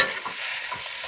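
Potato and oyster mushroom curry bubbles in a pan after hot water is poured in, giving a brief, close hiss of simmering with soft bubbling pops, no voices over it.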